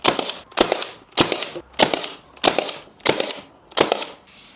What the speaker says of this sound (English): You'll like the noise of this gun, Stephen.